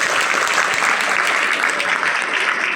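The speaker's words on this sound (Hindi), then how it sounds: "जोरदार तालियों से इनका स्वागत" An audience at a hosted stage event greets a speaker with loud, dense applause, a continuous wash of many clapping hands held at full strength throughout, close and without a break.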